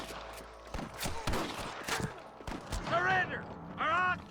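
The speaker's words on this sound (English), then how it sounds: "Good shooting, boy!" Sniper gunfire in the Red Dead Redemption game, a run of sharp cracks and shots in the first half, mixed with shouting voices and game sounds later.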